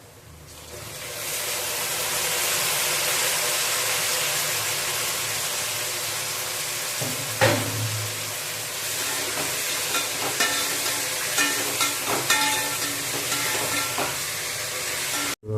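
Chopped tomatoes dropped into hot oil with fried onions and chillies for chicken biryani sizzle loudly and steadily, with occasional clatter of a spoon against the pan.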